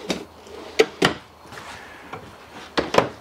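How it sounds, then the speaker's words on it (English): Solid wood full-extension drawers in a 2018 Grand Design Reflection 337 RLS fifth-wheel trailer slide and shut, giving several sharp wooden knocks and thuds with quieter sliding rumbles between. "Your drawers are full extension drawers,"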